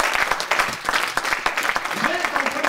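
A church congregation applauding during a French-language sermon, with steady clapping throughout and a preacher's voice speaking over it.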